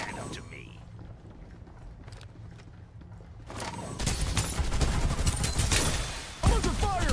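Gunfire in the Farlight 84 battle royale shooter, rapid bursts that grow loud and dense partway through, with a sharp close shot near the end over busy game noise.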